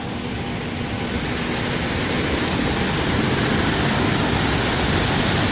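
Water spilling over the Zasław reservoir dam near Minsk, a steady broadband roar that runs unbroken and fairly loud from start to finish with no voices.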